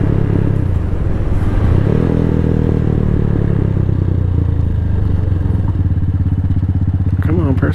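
A Venom X22R 250 sport motorcycle is ridden, its engine droning steadily with a low hum and a shift in pitch, wind noise throughout and a voice speaking near the end.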